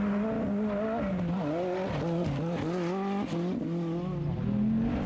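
A rally car at the 1984 Rallye des 1000 pistes races over asphalt made slippery by dirt tyres, its engine rising and falling through gear changes at close range, with some tyre scrubbing.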